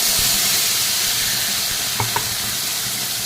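Whole spices tempering in hot oil give a loud, steady sizzling hiss, broken by two quick clinks of a utensil near the end, with no one talking.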